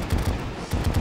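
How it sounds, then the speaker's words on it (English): Shotgun blasts in Terraria, a quick series of punchy low-end bursts repeating at a rapid, uneven rhythm, loud and close with no talk over them. "Shotgun to the face."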